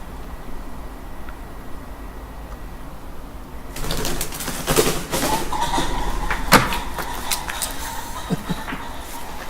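Birds call at night outside a bunker, sudden close flapping and cooing bursts that break an otherwise quiet hiss and then continue in a busy, uneven flurry.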